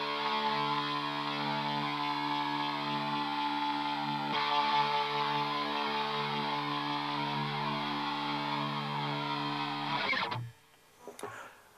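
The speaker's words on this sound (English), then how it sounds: "and a rotary simulator" Line 6 HD147 guitar amplifier playing a sustained, distorted guitar chord through its rotary speaker simulator, a steady swirling wash with a brief shift midway, then cut off near the end, leaving faint residual noise.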